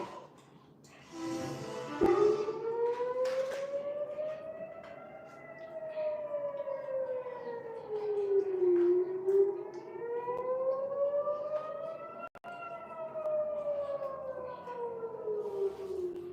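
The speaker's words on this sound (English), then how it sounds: "Those were the sirens going off in Jerusalem earlier tonight." Air raid sirens wail across Jerusalem at night during an Iranian drone and missile attack, a rising and falling tone sweeping slowly up and down, distant and echoing with faint background noise and a brief click midway.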